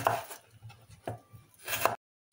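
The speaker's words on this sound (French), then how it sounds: "On va couper l'oignon" Three knife chops through an onion on a cutting board, each a firm broadband strike with a short pause between, close and fairly quiet, with no talking.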